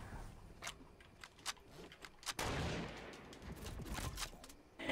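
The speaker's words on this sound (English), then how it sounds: "I've done a 360 and spun around and shot them" Gunfire in the Fortnite video game after a spinning 360 trick shot: a few sharp isolated shots, then a dense burst of rapid firing, moderately quiet.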